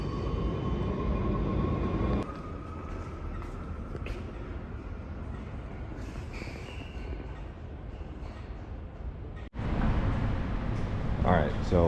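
Underground subway in The Hague, a continuous low rumble and rushing roar of a passing train that shifts abruptly partway through, with a sharp click near the end, people murmuring faintly beneath.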